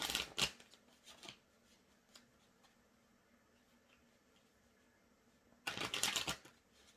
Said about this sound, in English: I'll shuffle these.